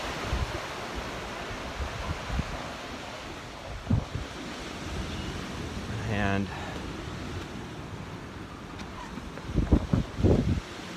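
Ocean waves roll onto the beach below the Torrey Pines cliffs, a broad steady wash of surf mixed with wind buffeting the microphone, broken by a few brief knocks and short bursts of sound.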